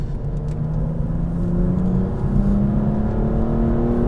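A BMW M235i drives at speed, its engine a steady low hum with a slowly rising whir under constant road and wind rumble, close and loud throughout.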